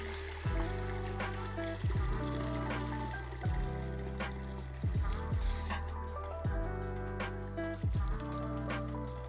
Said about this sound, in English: we'll just strain out all the little bits and pieces left over in our pot